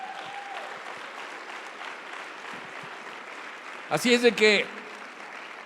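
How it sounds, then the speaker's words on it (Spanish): Congregation applause at a Sunday church sermon: steady, fairly soft clapping fills the space, and a voice briefly cuts in near the end over the clapping. "Dale un aplauso al Rey."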